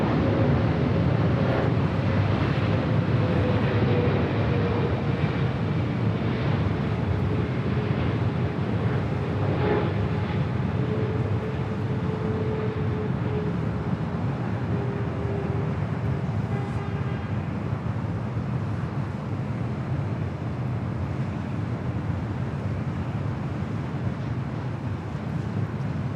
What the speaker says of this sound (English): Flight coming in from Hong Kong on the 777-300ER.